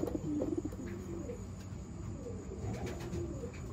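Racing pigeons coo steadily in a loft, a low, continuous murmur of overlapping calls at moderate loudness with no talking.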